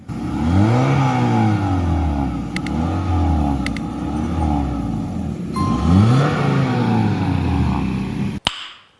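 Honda Civic Reborn with a dual exhaust, revved hard several times in deep swelling bursts close to the tailpipes, each rise falling back to a low rumble, with no talking over it.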